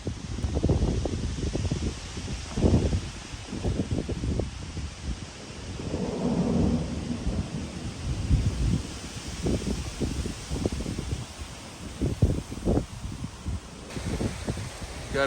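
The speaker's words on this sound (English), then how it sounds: "Got a bit of a storm blowing in, some high winds, lightning, thunder" An outdoor thunderstorm near Sheridan, Wyoming brings repeated deep rumbles of thunder and gusty wind buffeting the microphone, loud and continuous, with a voice briefly audible.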